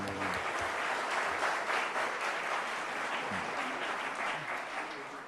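Sustained applause from an audience at the inauguration ceremony of a digital youth hub in Islamabad, steady dense clapping throughout that eases slightly at the end.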